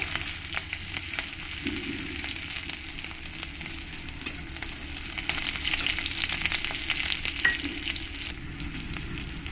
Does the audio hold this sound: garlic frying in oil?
yes